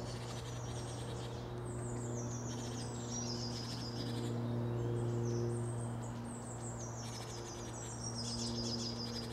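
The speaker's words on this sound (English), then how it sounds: "An abundance of bird song." Tits and other small birds sing in a mixed oak wood in winter, giving high, scattered chirps and short trilled phrases over soft, steady ambience. The song is moderately distant, with no voices.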